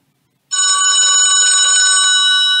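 A telephone bell rings loudly and steadily close by, starting abruptly after a short silence and continuing without pause.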